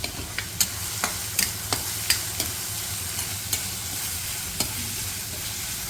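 Chopped onion frying in a pan for chivai leaf vegetable, a steady low sizzle broken by sharp scraping clicks of a spatula stirring every half second or so, close and alone without talk.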